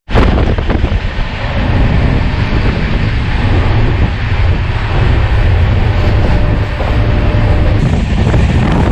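A train travels toward Delhi railway station, producing a loud, continuous rumble of wheels and carriages with steady wind noise for the whole stretch and no voices.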